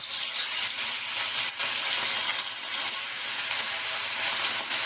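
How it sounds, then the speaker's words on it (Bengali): Mandali fish rubbed with salt and turmeric fry on a hot griddle, giving a steady, fairly loud broadband sizzle and hiss throughout with no talk. "তাওয়াটা গরম হয়ে গেছে, মাছগুলো ভেজে নেব আমি।"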